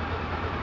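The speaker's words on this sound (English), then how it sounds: "It shouldn't be up that high for too long, just sitting idling like this." A Honda VFR motorcycle engine idles at steady, raised revs, a continuous close-up rumble with an even low-end drone and no talking.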